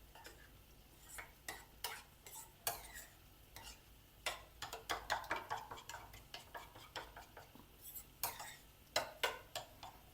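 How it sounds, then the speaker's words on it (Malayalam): A spoon stirs curd mixed with a teaspoon of fennel powder in a bowl, giving a steady run of close, sharp clinks and scrapes in irregular bursts, with no talking. "ഇതിനകത്ത് 1 ടീസ്പൂൺ പെരിഞ്ജീരകത്തിൻ്റെ പൊടിയിട്ടേ, അതൊന്ന് നല്ല മിക്സ് ചെയ്യാം"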